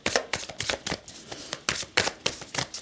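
Tarot cards are shuffled by hand in quick, crisp riffling bursts, close and fairly loud, with about a dozen rhythmic flutters over a few seconds and no talking.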